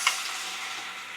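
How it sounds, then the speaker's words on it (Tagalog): Chopped tomato and fish sauce hit a hot pan with onion, giving a short burst of bright sizzling and a small clink of a utensil at the start, then steady frying hiss. "Igisa muna natin."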